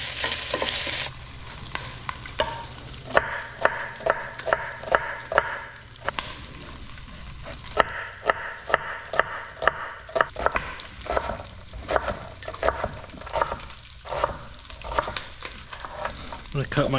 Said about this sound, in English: Any of those bits that stick, just make sure to use your wooden spoon, scrape them up.